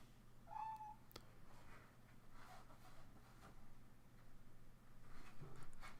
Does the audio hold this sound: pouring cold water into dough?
no